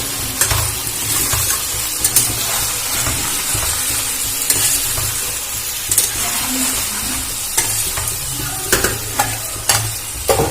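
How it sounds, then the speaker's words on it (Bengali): Chicken being stirred and mixed with salt in a pan, giving a loud continuous sizzle with repeated scraping and clattering of a spoon against metal, close up. "দিয়ে এটা খুব ভালো করে নাড়াচাড়া করে মাখিয়ে নেব।"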